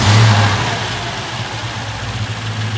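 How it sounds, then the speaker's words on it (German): A Mercedes CL500 V8 engine, running without its accessory belt, idles steadily up close, with a low rumbling idle and slight unevenness, no voices. "Start mal den Motor einfach kurz"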